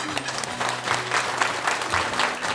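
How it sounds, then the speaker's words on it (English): A community gathering in Creswick applauds a cause's representative receiving flowers and a $150 cheque from a community bank, steady close clapping from a modest crowd with a faint murmur beneath. "I'd just ask everyone to give her a round of applause"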